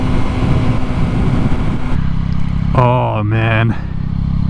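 A 2022 Yamaha MT-09 motorcycle being ridden, its engine droning steadily with wind noise throughout, while a rider talks excitedly over it.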